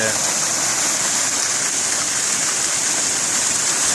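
Water rushing steadily down a roadside ditch on a hillside and spilling over into a small fall, a loud continuous broadband gush close by with no break.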